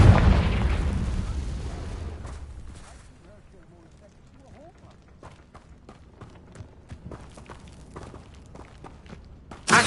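A Confringo blast spell explosion in the Hogwarts Legacy video game opens with a loud booming burst that rumbles and decays over a couple of seconds, followed by quieter footsteps and scattered impacts.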